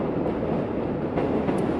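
V/Line passenger trains at Melbourne's Southern Cross station give off a steady, continuous rumble of rail noise with faint clatter and a brief high squeal near the end, heard with no talking.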